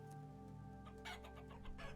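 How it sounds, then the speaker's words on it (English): Chickens cluck repeatedly in a snowy, hilly video game world, several soft bursts of clucking over a steady low game hum. "I'm gonna ignore the chicken noises because we don't need them."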